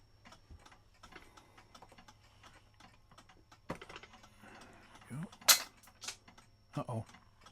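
Small metallic clicks, light taps and scraping come from the hands being worked off an antique clock, close by and quiet, with a few sharper ticks and faint breathy sounds in between.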